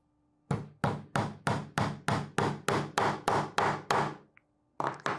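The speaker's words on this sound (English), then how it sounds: "I'm going to go ahead and hammer that nail in first" Hammer drives a nail into the edge of a small wooden treasure box with eleven evenly spaced, sharp wooden knocks, followed by a short pause and a final pair of quieter taps, close and alone.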